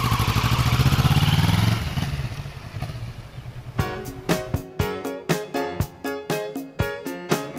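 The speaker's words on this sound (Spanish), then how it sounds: "es una moto que tiene 72 caballos" A 72-horsepower motorcycle on the road toward Alcalá de Henares, a steady engine drone that drops away, then gives way to a run of sharp rhythmic clattering bursts close by.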